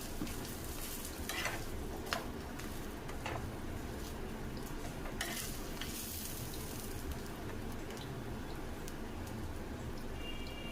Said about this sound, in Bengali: তাওয়া গরম করে তাতে আমি এটা ভালো করে সেঁকে নেব। ওপর থেকে তেল দিয়ে দিলাম।